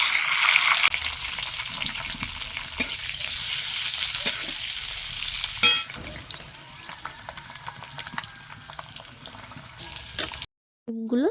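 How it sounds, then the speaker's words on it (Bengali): Eggs frying in hot mustard oil over a wood-fired stove, a steady loud sizzle with occasional scraping strokes of a spatula, quieting somewhat toward the end before a brief break. "এখন আমি তেলের মধ্যে এই ডিমগুলোকে দিয়ে দেবো।"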